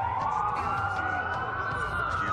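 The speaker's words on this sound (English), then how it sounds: "That's a lot of sirens for a block." Police sirens wail steadily in the Watch Dogs video game, a loud continuous rising-and-falling tone filling the whole short moment without talk.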